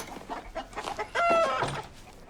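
Chickens cluck and squawk in a short burst on a farm, loud and close, with a sharp higher call near the middle amid scuffling background noise.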